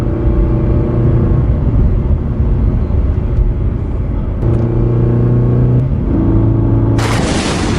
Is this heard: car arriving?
yes